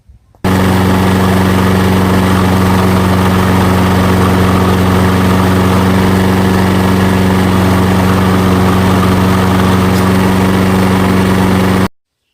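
Repaired lawn mower engine running at a steady idle, a loud, even drone with a strong low hum that starts abruptly and cuts off after about eleven seconds.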